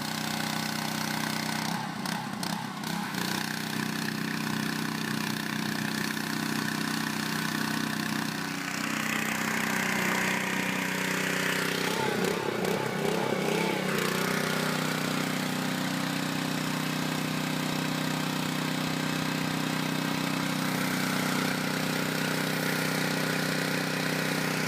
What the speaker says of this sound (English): Today we're going over the PowerPlay pressure washer.